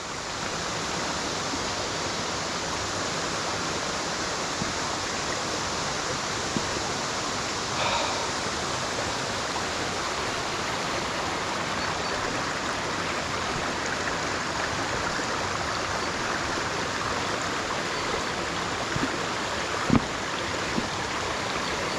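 Shallow mountain stream water rushes steadily around a wading person, a dense, even hiss of flowing water close by with occasional faint splashes, continuing unbroken throughout.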